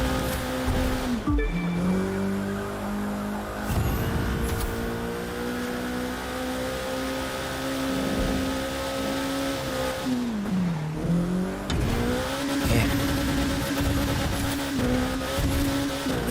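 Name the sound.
Alpha GP race car driving, video game The Crew 2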